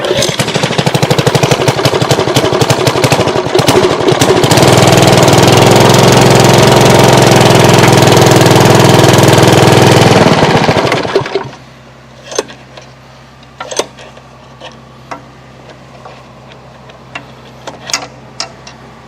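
A loud, steady engine drone with rapid knocking runs for about ten seconds, then cuts off, leaving quiet background with a few scattered clicks.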